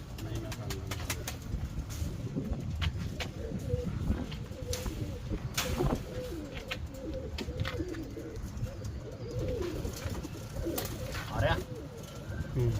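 Paired pigeons in a loft coo steadily in overlapping, gurgling phrases at moderate distance, mixed with scattered wing flutters and tapping knocks.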